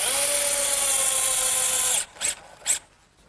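A power drill drives a 2-inch galvanized bugle head screw into wood, one sustained high whir that stops abruptly, followed by two short trigger bursts.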